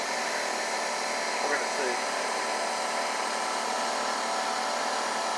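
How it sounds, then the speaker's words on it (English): An air compressor runs with a steady, droning hum beneath the Kawasaki FH580V engine, holding constant throughout while someone speaks briefly over it. "So maybe that compressor will cut off in just a second and you can hear it."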